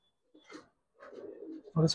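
Pigeons of a Giribaz khaki and silver loft coo in short bursts, close by, with voices talking intermittently around the calls.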